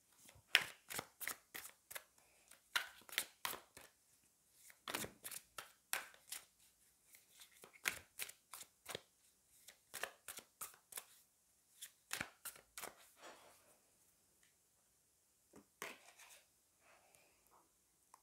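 A deck of tarot cards is shuffled and drawn by hand: rapid riffles, flicks and slaps come in quick bursts, close and quiet, thinning out toward the end with a few soft card placements.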